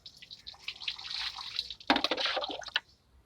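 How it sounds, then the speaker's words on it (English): Water splashes and runs off a brake part from a Hyundai Eon as soapy residue is rinsed away, a steady trickle followed by a louder gush and dripping, close and moderately quiet. "Make sure you rinse this until there's no more soapy water running from it."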